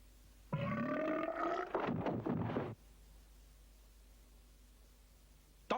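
A loud, long cartoon burp groans out with a rising, wobbling tone, then breaks into a rougher second burst before it cuts off into quiet hiss.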